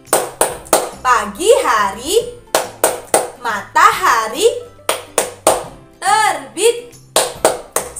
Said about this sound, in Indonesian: Tepuk yang kedua ini namanya tepuk matahari